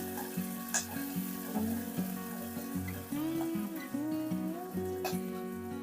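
Curry leaves frying in hot oil for a tempering, a steady close sizzle with crackling pops, with a sustained tonal hum running underneath throughout.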